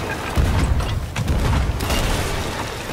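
Ship cannon fire in the video game Sea of Thieves, a series of deep, muffled booms and rumbling blasts rolling over each other in a noisy, continuous barrage.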